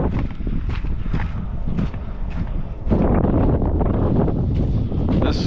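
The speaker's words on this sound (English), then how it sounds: "the wind is going the wrong way" Strong wind buffets the microphone outdoors in the Pilbara of Western Australia during a delivery stop, a loud rushing roar that swells midway, with muffled thumps and a faint voice underneath.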